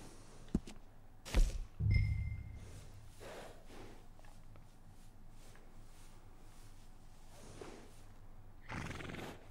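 A horse in the video game Red Dead Redemption 2 neighs loudly a couple of times near the start, followed by quieter snorts and shuffling, with a faint whinny returning near the end.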